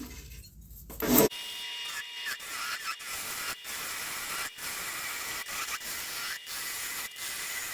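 A wood lathe hollows out a segmented woodturning, a continuous rough rubbing and scraping of the tool against spinning wood with brief breaks, moderately loud and close, after a short sharp noise at the start.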